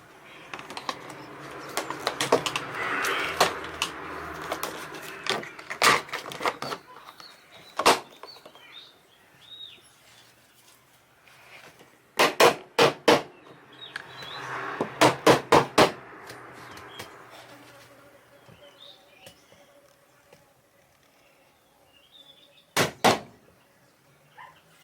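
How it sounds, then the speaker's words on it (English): Mallet or hammer taps refitting the top cover on a uPVC sliding patio door, heard as short sharp knocks in small clusters with quiet gaps between them, close by and alone without talk. "Reposition the cover and tap back into place with a mallet or a hammer."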